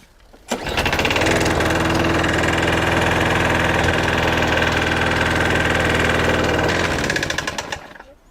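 A repaired lawnmower's small engine starts and runs steadily at high revs for several seconds, loud and close, then dies away.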